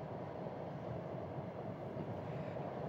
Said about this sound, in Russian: Вообще-то шикарный поезд. Красная стрела.